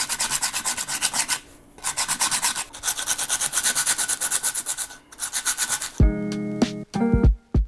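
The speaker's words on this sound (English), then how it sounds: "I'm just gonna do wet sanding." Wet sanding a concrete bowl by hand with coarse 40 grit sandpaper, heard as steady rhythmic rasping strokes up close with a short pause partway, then a few sharper scraping and clinking sounds at the end.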